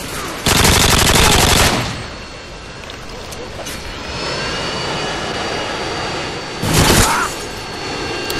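Harrier jet killstreak firing in a first-person shooter video game on a favela map, with two loud bursts of rapid gunfire over a jet engine roar, and a voice talking over the action.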